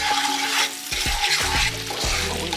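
Butter melting with sugar and spices in a pan over medium-low heat gives a steady, close sizzle and hiss, with stirring scrapes throughout.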